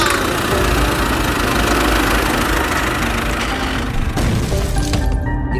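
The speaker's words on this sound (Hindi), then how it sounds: "इतना कहकर सोन ट्रैक्टर को स्टार्ट करता है" A cartoon tractor engine starts and runs as a loud, steady, rough rumble that fills the whole stretch and shifts briefly near the end, with no voices.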